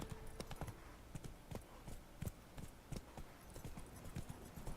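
Roach, the horse in The Witcher 3, walks along with a steady clip-clop of hooves, each footfall a crisp thud at a relaxed rhythm, fairly close and moderately quiet.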